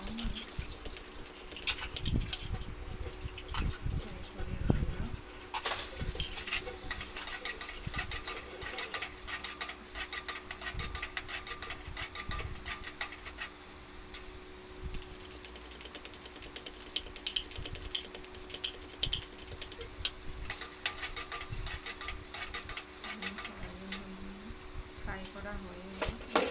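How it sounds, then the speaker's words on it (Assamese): Soybean chunks fry in oil with ginger and garlic in a wok, giving a steady crackle through the whole stretch with scraping and stirring clatter of a utensil against the pan. "এতিয়া মই চয়াবিনখিনি ভাজি লওঁ, বেছি নহয় অকণমান ফ্ৰাই কৰি লৈ লওঁ"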